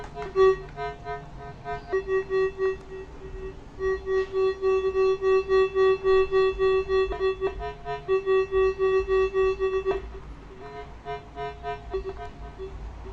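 A metal detector's steady electronic tone beeps on and off in long pulses, with a faint buzzy undertone, sounding loudly for stretches before cutting out and resuming.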